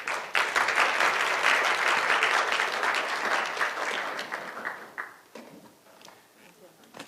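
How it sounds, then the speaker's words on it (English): Seminar audience applauding presenters, a burst of brisk clapping that stays strong for several seconds, then thins to scattered claps and dies away near the end. "So please give them a big applause again."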